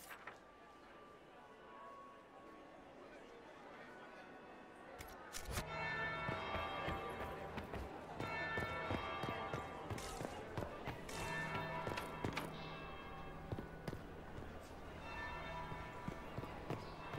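A church bell tolls in a video game, its slow strikes ringing out over a clattering scene with hoofbeats and footsteps, while people talk faintly underneath.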